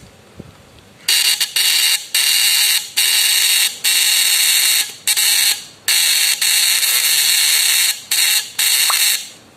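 A homemade electric fish stunner with primary-secondary coils gives a harsh electric buzzing that starts and stops in repeated bursts of about a second each, loud and close, separated by short gaps of quiet.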